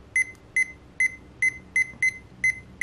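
Seven short, identical electronic beeps from a first-generation Tamagotchi virtual pet repeat at a steady pace, each a bright high tone, over a quiet background with no talking.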